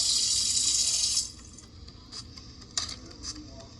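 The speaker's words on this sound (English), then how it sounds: "I'm now gonna wash my hands." Running tap water splashing into a sink as hands are washed in the Avatar World game, steady and fairly loud for about a second before cutting off, leaving quieter faint clicks and background noise.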